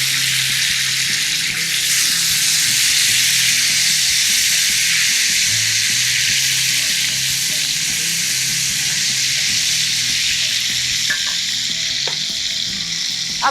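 Tomatoes tip into hot oil already cooking with garlic, cumin and crushed chili, giving a steady, close, loud sizzle and frying hiss that runs unbroken throughout, with a few light stirring clicks near the end.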